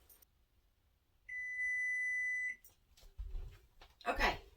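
A kitchen timer gives one steady, loud electronic beep lasting about a second, used while making homemade immediate dentures, followed by handling noises and a brief voice.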